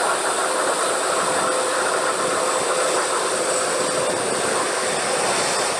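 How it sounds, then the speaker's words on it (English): The turbofan engines of a large US Air Force aircraft shriek at start-up, a loud, steady, high-pitched whine over a broad rushing roar that runs unbroken from start to finish, with no voices. "The high-pitched sound is caused by air being drawn and ejected by the turbofan engines."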